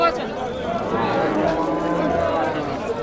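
Cows low at a busy livestock market, a drawn-out moo standing out over a murmur of people talking close by.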